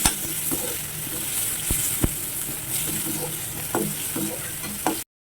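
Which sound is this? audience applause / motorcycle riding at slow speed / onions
onions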